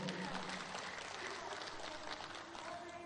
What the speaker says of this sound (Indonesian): Tepuk tangan buat PNG.